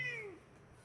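A cat gives one short meow close by; the call rises and then slides downward before fading within a second, with no other sound around it.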